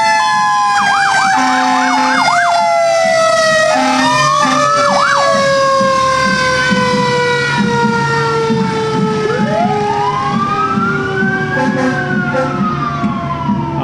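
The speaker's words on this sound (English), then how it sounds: "very loud fire truck" A very loud fire truck siren wails through a July 4th parade, its rising and falling tones sweeping up and down continuously over an engine rumble for the whole stretch, close and dominant.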